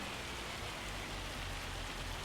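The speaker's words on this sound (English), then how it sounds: "That is hail, very much so." Hail falls in Farming Simulator 25, a dense steady hiss of pelting ice that stays even for a couple of seconds. No voices are heard.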